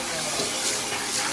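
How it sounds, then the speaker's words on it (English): Water being poured into a used pan after cooking chow mein noodles, a steady close splashing and rushing pour with no talk. "just pour some water in here."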